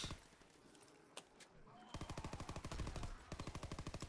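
Rapid automatic gunfire in the Call of Duty WWII Zombies video game: a long rhythmic burst of close shots after a quieter start with a few isolated cracks, then another burst near the end.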